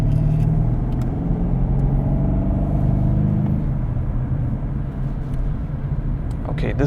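A BMW M850 with a 4.4 V8 cruises at moderate speed, its low engine rumble and road noise steady and close inside the cabin, with a voice talking over it.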